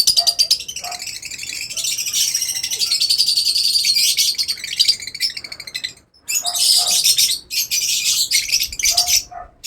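Pet birds chirping close by in quick, high, overlapping tweets and trills, with a brief pause partway through before the busy calling resumes.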